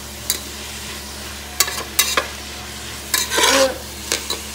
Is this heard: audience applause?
no